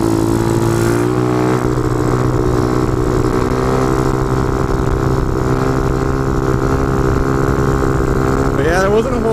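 A motorcycle engine drones loud and steady through a wheelie, a constant close roar with a brief high whine near the end.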